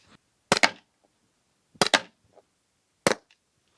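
Three sharp pepper ball launcher shots fired at a cardboard target outdoors, each a loud crack with a quick double impact, evenly spaced about a second apart with quiet between.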